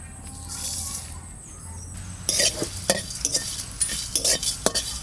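Dry red chillies, fennel, black pepper, cumin, ajwain and cardamom being fried in a pan for a village-style banana blossom dish: a soft, steady sizzle, then a run of sharp scraping stirs and clinks close by.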